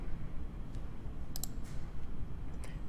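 A computer mouse clicks a few times, sharp and close, including a quick double click, against a low steady background hum.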